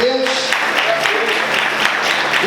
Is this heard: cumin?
no